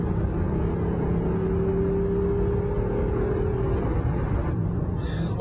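A Jaguar XJ saloon engine roars steadily under acceleration in sport mode, a loud continuous rumble with a rising whine near the microphone, no talk.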